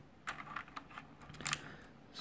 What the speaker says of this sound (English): I bought a blue switch keyboard.